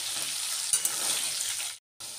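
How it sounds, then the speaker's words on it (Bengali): Potatoes frying in a pan, a dense steady sizzle with a couple of sharp spits, then a brief silent gap before the sizzling resumes. "আলুটা এবার ভাজা হয়ে এসছে"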